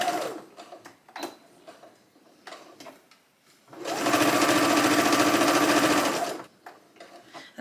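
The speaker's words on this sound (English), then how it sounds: "now I'm going to stitch all 3 layers together at 3/8 of an inch" A sewing machine stitches three layers of fabric together in a 3/8-inch seam for a blouse. A few soft handling clicks come first, then a loud, steady run of stitching lasts about two and a half seconds before stopping.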